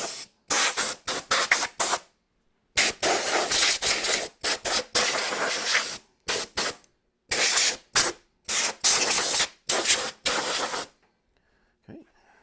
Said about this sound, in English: we'll grab some compressed air and clean all of this off